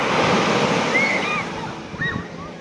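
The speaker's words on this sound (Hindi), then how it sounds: "ये लहरें" Ocean waves break and wash onto a sunny beach in a steady, close surf roar with some wind, while faint bird calls sound over it.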